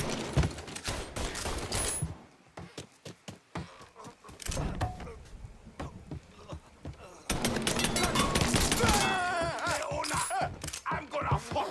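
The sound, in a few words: gunfire in the video game Mafia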